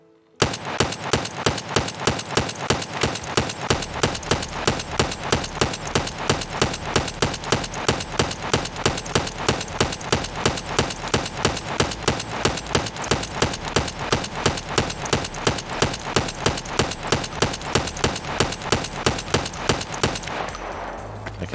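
Automatic rifle fire in Escape From Tarkov, deliberately held to a limited rate, gives a long, evenly spaced string of loud close shots, about three or four a second, for some twenty seconds without any talk.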